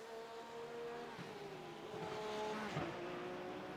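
GT3 race car in the iRacing sim braking hard into a corner, engine note dropping through the harmonics before pulling away, loud and steady throughout with a brief tire scrub near the end.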